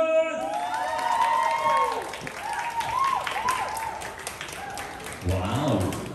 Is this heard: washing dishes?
no